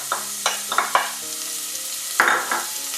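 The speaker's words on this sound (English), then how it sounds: "What you want to do is you want to fry the onions." Diced onion fries in two to three tablespoons of oil in a pot over medium-high heat, a close steady sizzle broken by several crackling stirs and scrapes of a utensil.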